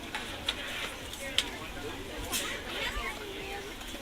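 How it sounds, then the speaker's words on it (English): Passenger murmur fills a Boeing 737-900ER cabin during boarding in a flight simulator, a steady low babble of indistinct voices with occasional ticks and thumps, moderately close and continuous throughout. "And we can hear all the passengers boarding here."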